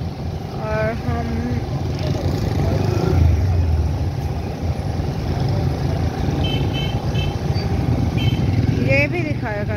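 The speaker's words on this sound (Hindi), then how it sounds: "हम बाइक पर जा रहे हैं।" Motorcycle engine drones steadily while riding through heavy Friday traffic in Okara City, with a low rumble and wind throughout and horns of other vehicles honking near the start and end. Someone talks over it.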